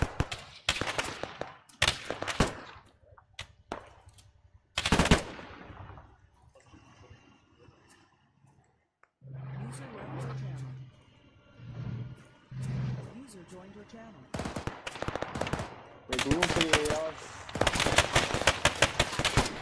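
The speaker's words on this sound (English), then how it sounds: "Careful, we're taking direct fire here." Bursts of gunfire in the video game ARMA 3, sharp broadband cracks scattered through the clip and a dense rapid volley near the end, with a voice talking at moments in between.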